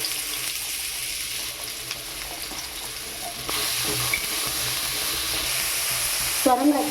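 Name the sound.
bottle gourd sautéing in sesame oil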